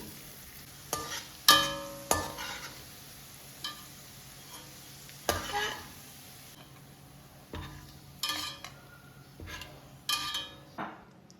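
Raisins fry briefly in oil in a pan for chicken biryani, a soft sizzle broken by sharp scraping clinks of a spoon stirring against the pan at irregular intervals.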